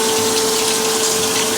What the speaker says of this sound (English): now I'm just going to throw a little bit of water so that it can steam and soften up the asparagus a little bit